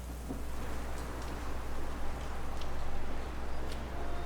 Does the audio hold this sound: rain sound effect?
yes